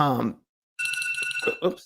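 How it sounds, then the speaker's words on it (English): A phone alarm goes off with a bright, steady electronic ringing tone after a brief pause, while a person talks over it. "that's my alarm saying hop on the podcast."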